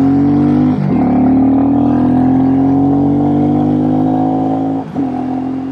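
Royal Enfield Classic 350 motorcycle with an aftermarket pipe, its single-cylinder engine held at a steady loud rev with two brief dips in pitch as the throttle blips, close and alone.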